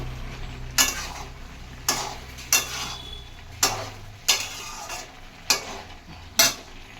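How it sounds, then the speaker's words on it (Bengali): Vegetables for pui shak chorchori, a Malabar spinach dish cooked dry without added water, are stirred in a pan in seven regular scraping strokes about a second apart, each one a sharp close rasp over a low sizzle. "একটু ঘেটে ঘুটে দেবো"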